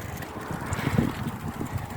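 Continuous low wind noise blows across the microphone while cycling in cold wind, with soft gusts and a faint rattle of movement, no voices.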